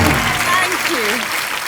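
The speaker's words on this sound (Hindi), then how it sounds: "जोरदार तालियां मनीषा जी के लिए एक बार" Studio audience applause welcoming actress Manisha Koirala on the Kapil Sharma Show, steady clapping from the crowd with a voice talking over it, moderately loud.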